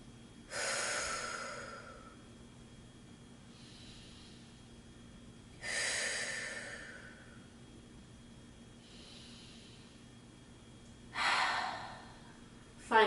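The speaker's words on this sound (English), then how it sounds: "Take a few moments to breathe." Slow, deep breaths during a yoga child's pose at bedtime, three long airy exhales spaced several seconds apart with softer inhales between, close and quiet with no talking.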